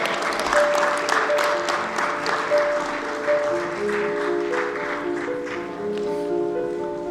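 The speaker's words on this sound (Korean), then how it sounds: "박수 부탁드립니다." Sustained clapping from the crowd at a Gyeongbuk education office sports awards ceremony, steady and fairly loud throughout, with music playing underneath.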